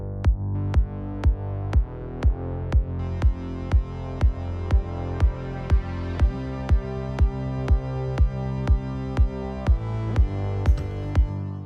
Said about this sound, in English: And then let's bring in those kind of more sustained bass layers.